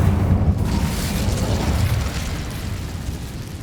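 Incendio fire spell cast in Hogwarts Legacy, a loud blast of flame that bursts at the start and then rushes and crackles as it slowly fades, with no talk.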